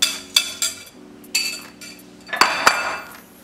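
Spices, sugar and butter being beaten together in a bowl for Haitian gato, with a series of sharp clinks of utensil on bowl, some in quick pairs, close and clear over a steady low hum.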